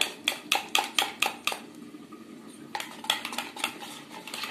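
Prawn fry batter being beaten at speed until fluffy: a fast run of sharp, evenly spaced clinks and taps of utensil on bowl, close and fairly loud, a short pause, then another quicker burst, with no talk.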